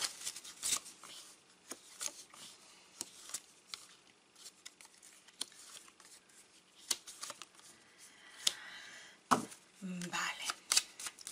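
Tarot cards being shuffled during a love reading, a run of soft papery flicks and riffles spread through the clip, with a voice talking quietly over parts of it.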